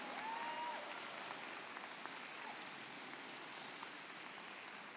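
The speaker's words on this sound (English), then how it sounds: "let's give a round of applause" Applause at a robotics championship awards ceremony for volunteers, a steady, moderately loud wash of clapping from an audience lasting throughout.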